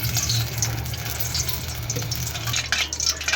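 Oil heating in a kadai for green pulao gives a steady, close, continuous sizzle and crackle with no talk over it.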